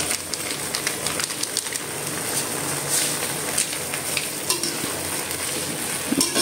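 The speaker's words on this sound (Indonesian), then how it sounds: "aduk biar tercampur merata ya" Ridge gourd, bean sprouts and tofu are stirred in a wok over a loud, continuous sizzle, with a spatula scraping and clattering against the metal close by and nobody speaking.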